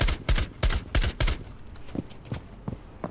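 Gunfire outside on the Plane map in the shooter Rainbow Six Siege: a close, loud burst of rapid rifle shots in quick bursts, then fainter scattered shots trailing off.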